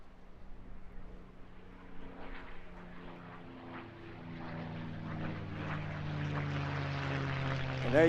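A propeller warbird painted in the Moonbeam McSwine livery flies a display at the Eastbourne International Airshow, its engine a steady, distant drone that grows gradually louder and nearer over the seconds.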